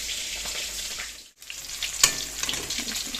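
Fish and vegetables frying in oil, browned until crisp, a steady loud sizzle with faint scraping and stirring, pausing briefly partway through before resuming.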